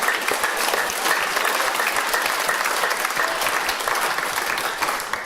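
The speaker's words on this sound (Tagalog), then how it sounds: "Lakasan po natin ang palakpak." A church congregation breaks into loud, dense applause that fills the room for several seconds and stays steady, with a few faint voices mixed in.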